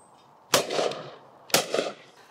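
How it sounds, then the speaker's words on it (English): Side-by-side shotgun fired twice with heavy cartridges, two sharp loud blasts about a second apart, each trailing off in a short echo. "So if you're looking for a gun that you can shoot, a side-by-side that you can shoot heavy cartridges through it, this is your gun for that"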